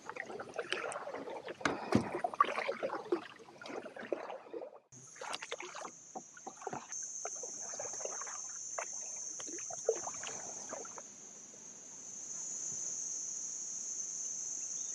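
Kayak paddled on open water near Krabi, with soft, uneven splashes and knocks from the strokes up close. A steady high insect drone, like cicadas, comes in partway through and holds to the end.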